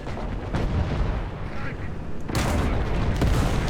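Heavy, booming gun blasts and rumbling battle noise from a Hetzer tank destroyer in War Thunder, sustained and loud, with a sharper, louder burst of firing near the end.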